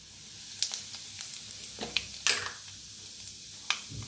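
Mustard seeds and cumin sizzle in hot oil in a kadhai, a steady close crackle broken by scattered sharp pops and spits throughout.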